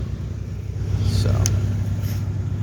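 A car engine idles with the hood closed, a low, steady rumble close by that stays constant throughout, with a few faint higher clicks and noises over it.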